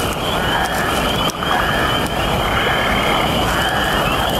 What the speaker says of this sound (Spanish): Los sapos roble son comunes en estos bosques